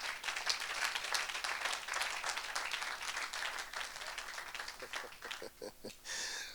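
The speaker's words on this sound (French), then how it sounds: "Tu peux acclamer mieux que ça" A church congregation cheers and applauds during a French-language service, a dense, steady wash of clapping and voices that thins toward the end, with a few sharper claps and shouts breaking through.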